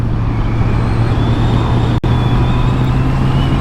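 A Honda CB650 with E-Clutch accelerating hard, its engine a loud, steady droning roar mixed with heavy wind rush that stays constant throughout, broken only by a momentary drop near the middle.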